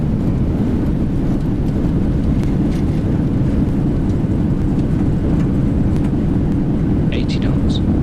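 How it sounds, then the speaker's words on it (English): Airliner thrust reversers roaring after landing in X-Plane 11, a Boeing 737-800 at Washington-Reagan, with a loud continuous broadband rumble throughout and brief faint chirps near the end. "Reversers are out."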